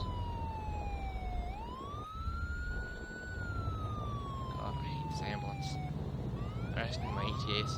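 An ambulance siren wails in the OurLifeRPG video game, a loud rising and falling tone that holds throughout over a constant engine rumble, with other siren tones layering in toward the end.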